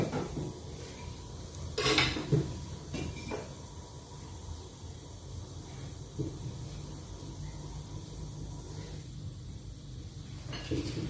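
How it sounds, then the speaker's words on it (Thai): Resin and lemongrass tipped into a pot for herbal extraction, with metal pots and utensils clattering in a few sharp knocks and scrapes over a quiet hissing background. "ชันกับตะไคร้เทลงในหม้อค่ะ"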